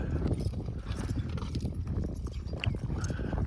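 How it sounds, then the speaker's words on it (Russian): Milking mares walk out of an enclosure on a farm, their hooves clip-clopping in a dense, continuous patter against loud outdoor background noise. "Дойные кобылы уже сами знают, что им надо выходить."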